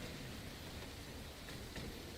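Steady rain hisses evenly in the GTA city roleplay game, a continuous dense wash of falling water with no distinct drops, heard quietly and alone.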